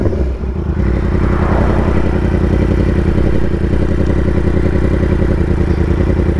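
A 2018 Yamaha R1 sport bike is being ridden, its engine a loud, steady, close drone with mechanical rattle throughout.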